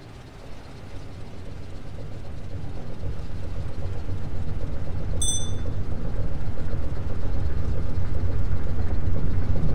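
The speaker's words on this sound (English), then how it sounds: "I hear the diesel engines running." Submarine diesel engines in the IronWolf VR game run as a steady low rumble that slowly swells louder across the clip, with a brief high electronic beep partway through.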